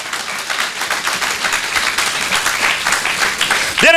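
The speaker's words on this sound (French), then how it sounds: "Est-ce que tu peux acclamer le Seigneur très fort?" A church congregation applauds loudly during a sermon on divine restoration, dense sustained clapping filling the room with crowd noise and cheers, before a voice comes in at the very end.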